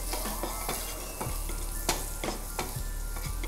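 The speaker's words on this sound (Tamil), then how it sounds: "பூண்டு சேர்த்துட்டு ரொம்ப நேரம் வதக்க வேண்டாம், ஒரு 10-15 செகண்ட்ஸ் வதக்கினாலே போதும்." Chopped garlic sautéing briefly in hot oil in a pan, giving a steady close sizzle and frying hiss punctuated by regular scrapes and taps of a spatula stirring against the pan.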